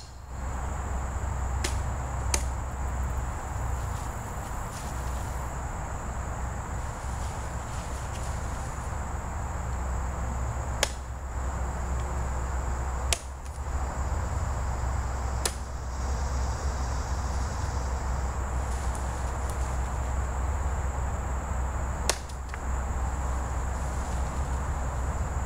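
A CKC Broadleaf axe chops wood on a big stump outdoors, with a few sharp, isolated impacts spaced seconds apart over a steady hum of insects and ambient noise.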